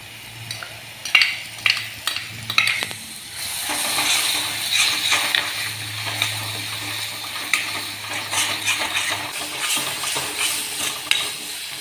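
Masala stirred into sautéed ginger and garlic in a pan for a Kerala chicken dish, with a steady close sizzle under repeated scraping and stirring strokes and no talk.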